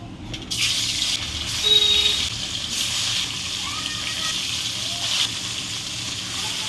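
Catfish pieces go one by one into hot mustard oil in a wok, producing a continuous close, loud sizzle with bursts of crackling.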